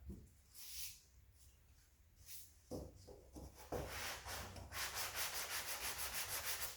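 A sanding block is rubbed by hand over the body of a 1968 Firebird, giving close, raspy back-and-forth strokes that settle into a quick, even rhythm toward the end.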